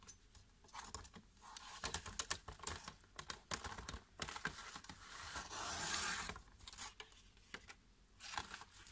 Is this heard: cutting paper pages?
yes